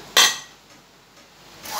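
A sharp metallic clink of a utensil against a dish, followed by a soft scraping and another clatter as rice is served, close by in a quiet room.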